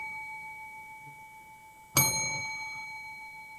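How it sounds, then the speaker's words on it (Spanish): A bell rings once with a bright metallic ding that rises out of a quiet background with a steady hum, then slowly decays. "Ya está el timbre."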